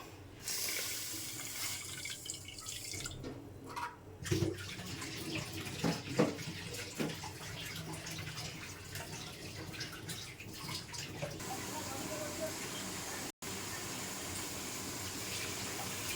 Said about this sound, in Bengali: চিনির মধ্যে 1 কাপ জল দিয়ে দেব।